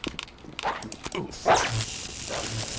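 A dog barks several times in the video game Postal 2, a few short barks scattered across busy game noise and clatter, moderately loud.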